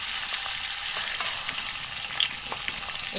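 Finely chopped large onion sizzles loudly in hot oil in a wok, a dense steady crackle close up with faint stirring scrapes, no talking.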